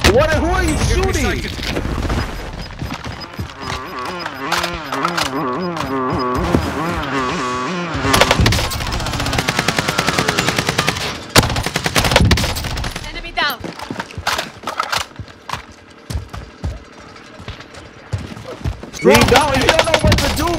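Rapid automatic gunfire and explosions in a shooting video game, loud and dense bursts with engine noise, while players talk excitedly over the action.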